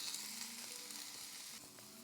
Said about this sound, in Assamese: প্ৰথমতে চয়াবিনখিনি ভাজি ল'ম।